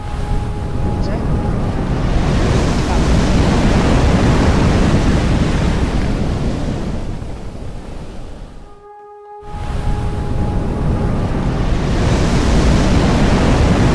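Continuous rushing waves and surf with heavy wind noise in a Roblox tsunami game, briefly cutting to near silence before the roaring surf resumes.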